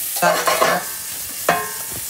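Vegetables sweating in a knob of butter in a pan, stirred in two brief bursts with soft scraping and a gentle sizzle, close and moderately loud.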